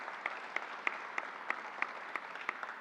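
Sparse applause from an audience at a New York State vaccine announcement event, with distinct individual claps spaced irregularly over a steady room murmur, moderately faint and without talk.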